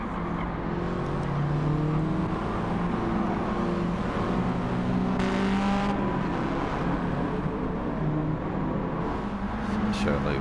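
Racing car engines in Gran Turismo 7 whine and roar continuously, several overlapping and shifting in pitch, loud and steady for the whole stretch.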